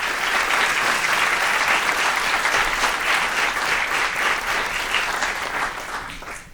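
Sustained audience applause welcoming a panel at a democracy event, a steady loud wash of clapping that stays even before tapering slightly at the end.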